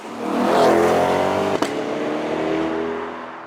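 Chevrolet Corvette C8 with a 6.2 V8 at full throttle, a loud, close roar that swells and holds with a sharp click near the middle before the strong engine note carries on alone.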